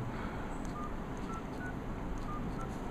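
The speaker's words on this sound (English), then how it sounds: "You can dial the number." A Micromax Pike X510 touchscreen phone dials a number with a handful of short, faint keypad tones at irregular intervals. They sit over a constant background hiss.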